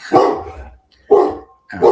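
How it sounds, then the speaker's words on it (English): A dog barks loudly and close by, three sharp barks in quick succession with short pauses between them. "he's literally barking at nothing"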